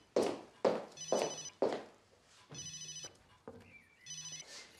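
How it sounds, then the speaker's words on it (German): A mobile phone ringtone sounds indoors in several short repeated bursts, with a few soft knocks and taps between the rings. "Das ist mein Handy."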